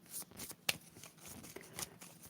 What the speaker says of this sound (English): what you do is shuffle your cards